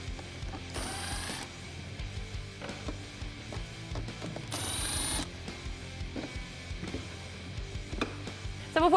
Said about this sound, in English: a 10mm socket in order to remove the 2 bolts that are holding in our fog light